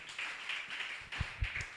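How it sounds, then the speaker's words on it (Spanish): A church congregation claps for the King of Kings during a worship service; faint, scattered hand claps sound beneath a steady wash of room noise and background music. "Dale un aplauso al Rey de Reyes"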